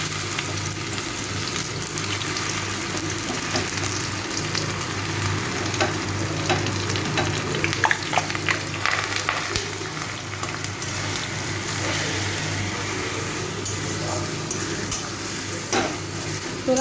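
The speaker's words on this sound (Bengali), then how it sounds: "কালো জিরাটা ভাজা হয়ে গেছে, আমি এবার এর মধ্যে শোলা কচুটা দিয়ে দেবো।" Shola kochu (taro) frying in hot oil with black cumin, giving a steady close sizzle broken by scattered clicks and scrapes of stirring.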